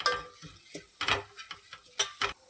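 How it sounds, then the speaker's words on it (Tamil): Light clinks and scrapes of a spoon stirring curry leaves roasting in a pan, with a soft sizzle underneath, in short separate bursts. "கருவேப்பிலையை வறுத்து எடுத்துக்கலாம்."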